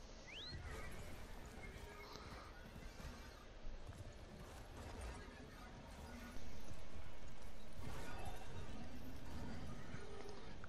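A horse in the video game Warframe neighs and its hooves clatter over a dense game soundscape, with a thin whinny early and steady ambient noise that grows louder partway through.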